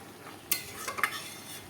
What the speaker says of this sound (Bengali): একটু ঘেঁটে ঘেঁটে রান্নাটা করছি